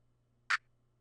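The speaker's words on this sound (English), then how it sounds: "we have the clap pattern, which is going to sound like this" A lone clap sample from a drum pattern programmed in FL Studio gives one short, crisp hit, quiet and isolated over a faint low hum.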